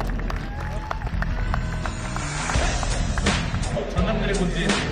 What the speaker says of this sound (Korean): 여러분 뜨거운 박수로 함께해 주시기 부탁드리겠습니다